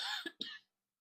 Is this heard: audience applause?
no